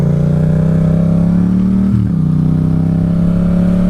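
Motorcycle with an automatic turn-signal canceller engine droning steadily up close while banking right into a roundabout, a brief dip in the engine note midway.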